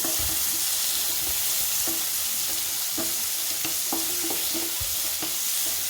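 Chayote, onion, tomato and garlic sautéing in a pan for chutney, a loud continuous sizzle with repeated stirring scrapes and taps of a spoon against the pan.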